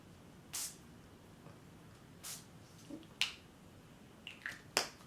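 A spray bottle mists onto paper in a handful of short, sharp hissing bursts spaced apart by quiet pauses, close and fairly soft.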